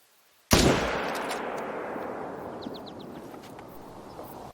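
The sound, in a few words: rifle shot at a male elk in a hunting video game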